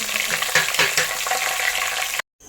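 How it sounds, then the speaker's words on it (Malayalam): Curry leaves crackle and spit in hot oil for a ginger curry in a Kerala-style kitchen, a dense steady sizzle with a few louder pops, ending in an abrupt cut to silence. "ആ എണ്ണയിൽ ഇട്ടിട്ട് നമുക്ക് കുറച്ച് കറിവേപ്പില നല്ലപോലെ ഒന്ന് ഫ്രൈ ആക്കി"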